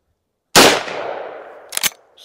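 A single loud gunshot from a .357 Magnum 16-inch carbine during chronograph testing, a sharp close blast with a long decaying tail, followed by a brief pair of faint clicks.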